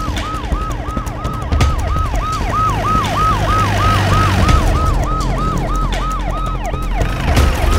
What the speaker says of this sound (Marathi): ते पोलीस सायरनचा आवाज आला ते आपल्यासाठी नाही रे